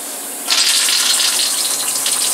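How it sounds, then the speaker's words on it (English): Flood coolant switched on in a machine's coolant system: a sudden steady rush of flowing liquid begins about half a second in and continues evenly, loud and close, with no talk. "You can kind of judge just by the flow of what the flood coolant's doing."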